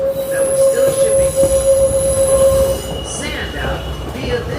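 Santa Cruz Big Trees & Pacific heritage train running on its tracks, wheels squealing in a loud, sustained high-pitched screech over a heavy rolling rumble, easing slightly partway through.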